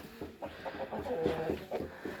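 Close clucking from a young rooster, a quick run of short throaty clucks in an uneven rhythm, with soft background noise.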